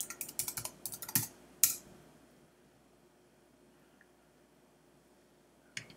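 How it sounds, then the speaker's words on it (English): A password being typed on a computer keyboard, a quick close run of crisp key clicks in the first two seconds, then quiet with one final keystroke near the end. "So I'm just going to type in a password there."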